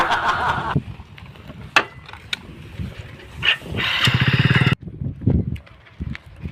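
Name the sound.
motorcycle engine starting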